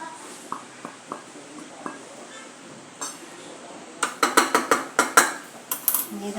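Flour being stirred into milk and melted butter in a pan, heard as soft scraping at first, then a run of quick, rhythmic metallic clinks of the utensil against the pan.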